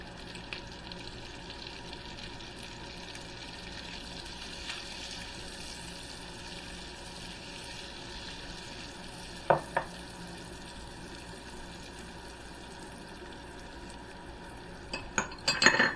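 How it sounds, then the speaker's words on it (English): Onions and peppers fry in a pan for shrimp and grits, a steady, fairly quiet sizzle with occasional utensil clinks and scrapes from stirring, a couple of sharper knocks near the end. "time to add those peppers and onions"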